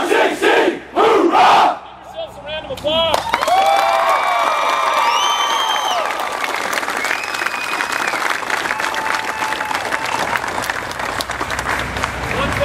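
California Highway Patrol cadets and audience at a ceremony after a five-mile run to the Capitol: shouted chants give way to loud, sustained cheering and applause with whoops and whistles from a large outdoor crowd.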